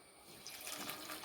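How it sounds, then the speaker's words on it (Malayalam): Water is poured into a pan of jaggery to melt it into syrup for a ripe-mango pulissery curry, a short, close, steady splashing pour with no talking. "ശകലം വെള്ളം ചേർത്ത് ശർക്കര പാനിയാക്കി."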